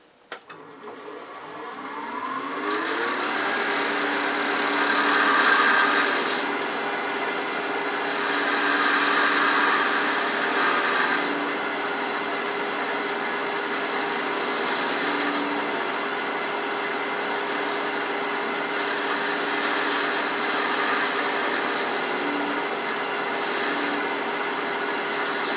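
Wood lathe spinning while a chess bishop is turned, a steady whirring hum starting after a brief startup and running continuously with faint scraping variations of the tool, close and alone.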